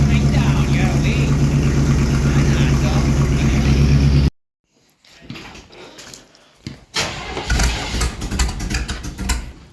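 A 1971 Chevy C10 engine struggling through a hard cold start after sitting five months: a loud, rough, low chugging run that cuts off abruptly, then uneven sputtering and revving attempts with clattering bursts, close to the microphone.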